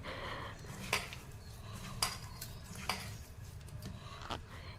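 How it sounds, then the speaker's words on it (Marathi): Boiled potato mashed and mixed in a bowl, with a few quiet, sharp clinks of a utensil against the bowl spaced about a second apart over a soft, steady background. "एक उकडलेला बटाटा इथे मी घेतलेला आहे चांगला तो कुस्करून घ्यायचा एकदम मिक्स करायचा आहे"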